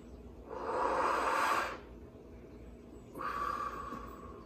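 Two fast inhalations shaped through a tall open vowel, each a breathy rush of air lasting about a second, close and alone with a short pause between.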